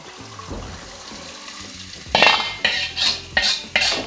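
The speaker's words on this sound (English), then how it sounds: "We're gonna strain this back into the oil pot." Used frying oil from a wok being strained back into the oil pot, with a soft background hiss, then a series of about four sharp metallic scrapes and clanks of utensils and strainer against the pot.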